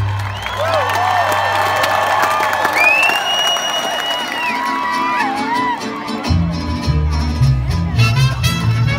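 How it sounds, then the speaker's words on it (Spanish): An outdoor bowl audience claps, cheers and whoops for a mariachi band as a song ends, loud and sustained, with the band's final notes ringing under the applause. "Ese aplauso para el mariachi"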